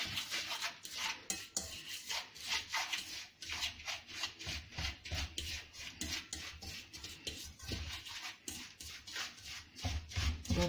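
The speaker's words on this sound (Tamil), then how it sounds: "பட்டரோட நல்லா மிக்ஸ் பண்ணிக்கணும்." Sifted wheat flour being worked into butter by hand in a bowl for crispy wheat cookies: a soft, steady, rhythmic rubbing and rasping, quiet and close, with no talking.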